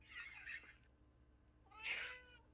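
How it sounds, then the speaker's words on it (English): A cat meows twice, two drawn-out cries about a second apart, faint and somewhat distant in a quiet room. "Oh, I hear cat."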